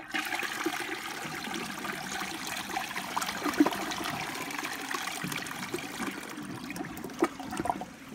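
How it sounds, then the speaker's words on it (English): A round Gerber Aquasaver front-flushing toilet flushes with a sustained rush and swirl of water, trickling and gurgling close by, then tapering as the bowl refills. "But yeah, here's another flush."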